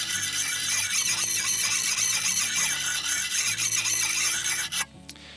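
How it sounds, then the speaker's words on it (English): A sharpening stone worked in circles along the edge of a garden spade at a steep angle, a continuous harsh rasping scrape with a squealing edge and rhythmic strokes, close and loud, stopping abruptly near the end. "just with the stone in a circular motion, on about a 45-degree angle"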